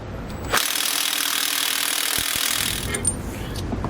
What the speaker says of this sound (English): put your impact wrench in place, because there is going to be a pretty tight fit to get it underneath